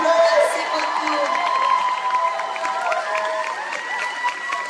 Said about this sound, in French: Levez-vous, faites du bruit, un tonnerre d'applaudissements pour Catgirl, s'il vous plaît.